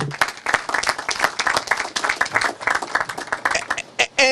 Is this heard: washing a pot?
no